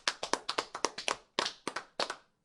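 Quick, steady hand clapping at an Overwatch League esports event. It sounds fairly faint and thin, like a few pairs of hands rather than a large roaring crowd, and lasts a couple of seconds.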